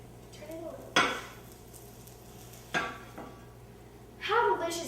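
A spatula eases an omelet off a plate: a few sharp clinks and scrapes of utensil on crockery at irregular moments, close by, over a quiet kitchen hum, with a louder clatter at the end.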